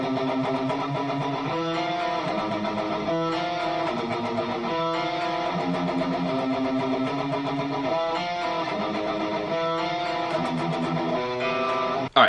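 Slowly played, the riff comes through on distorted electric guitar, dense sustained chords shifting in a repeating pattern, loud and continuous with no voices over it.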